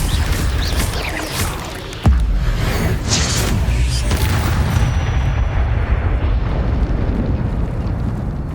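An Incendio fire spell cast in Hogwarts Legacy, a sudden loud burst of flame and rumbling roar that swells and then settles into a sustained crackling blaze.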